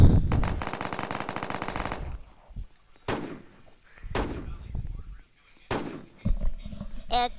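Video game gunfight gunfire: a long rapid automatic burst followed by several sharp single shots with short gaps between them, loud and close.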